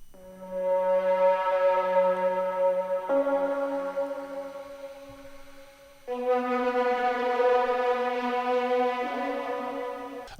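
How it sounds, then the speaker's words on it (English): Multi keys synth playing a melody: sustained harmonic chords shifting every few seconds across four held notes, bright and steady, alone without voices. "I believe this was just another set of multi keys using the same melody"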